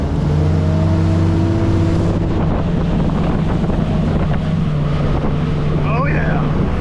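A Yamaha SHO 250 outboard engine runs on a new Skeeter bass boat during break-in, a steady droning hum building as the boat gets underway, with rushing wind and water noise growing louder over it.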